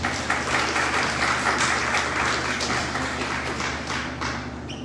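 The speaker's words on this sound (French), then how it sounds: "Je vous prie d'applaudir très fort Madame Sandrine Rampetouvin." Warm applause from an audience at an official business program opening, welcoming a speaker; continuous clapping at moderate level, slowly tapering toward the end.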